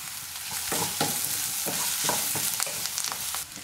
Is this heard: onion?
yes